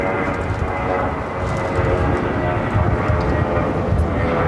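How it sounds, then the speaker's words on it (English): Viva Aerobus Airbus A320, flight 511 to Guadalajara, taking off at LAX: a steady, loud broadband jet engine roar held throughout, swelling slightly toward the end, with faint voices mixed in. "This is Viva Airbus 511 taking off to Guadalajara on the A320"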